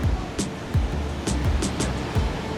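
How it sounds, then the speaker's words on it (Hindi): Strong sea waves surge and crash at Ram Setu, a roaring broadband wash with several distinct breaking bursts over low rumbling surf, close and loud with wind noise. "क्या जोरदार लहरें हैं, ये देखो।"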